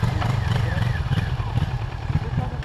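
A motorcycle on an A2 licence slow-riding course putters along at low speed, its engine giving a steady, low, pulsing idle-like chug throughout, with a voice speaking over it.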